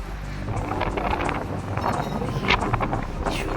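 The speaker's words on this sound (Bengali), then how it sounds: "সুন্দর হাওয়া দিচ্ছে।" Wind blows across the microphone on Digha beach, a constant low rumbling buffet with gusty fluctuations and faint background activity, no clear talk.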